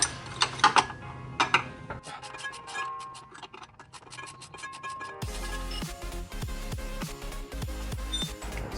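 Clicking and ratcheting of a hand ratchet loosening driveshaft bolts under a BMW 335i during a clutch job, a quick run of sharp clicks, a pause, then steadier metallic clatter and ringing tool strikes close by.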